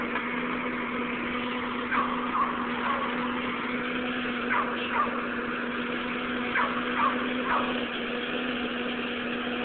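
A small engine runs just after a carburetor adjustment, holding a steady mid-pitched drone at moderate distance, with a few brief uneven surges and rattles over the continuous hum.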